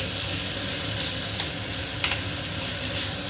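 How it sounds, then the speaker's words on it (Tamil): Tomatoes sautéing in a pan for a mushroom gravy give a steady, close sizzle and crackle that runs throughout, with a couple of faint stirring clicks. "நான் ஒரு சின்னதாக ஒரு 3 தக்காளி மட்டும் எடுத்து நல்லா வதக்கி விட்டுடலாம்"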